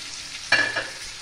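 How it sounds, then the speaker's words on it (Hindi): Chicken pieces frying in a pan with ginger-garlic paste, salt, chili and turmeric, a steady soft sizzle broken by one brief louder scrape-and-hiss burst midway, close and alone without voices. "हमारा चिकन देख सकते हैं अच्छे से फ्राई हो चुका है"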